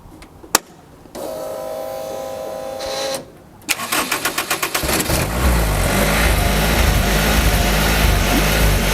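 A road-legal racecar engine cranks with a few quick rhythmic turns, catches and settles into a loud, steady idle close by, with no talking over it.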